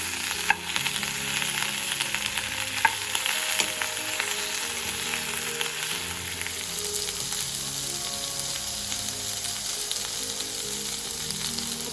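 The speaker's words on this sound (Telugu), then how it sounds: "ఇప్పుడు టమాటా కొంచెం మగ్గే వరకు ఇలాగ ఇందులో ఉడికించుకుందాం" Chopped raw tomatoes and coriander leaves cooking in a pan for chutney, a steady soft sizzle with occasional stirring clinks, moderately close and unbroken by speech.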